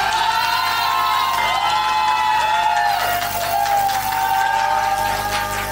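A studio audience at a televised singing contest cheers and whoops loudly and steadily for contestant Analía Castiblanco, a dense, continuous crowd roar with high shouts on top and no clear break.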